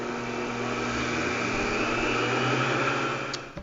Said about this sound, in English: Let's blend the dry ingredients together so it will get mixed together quickly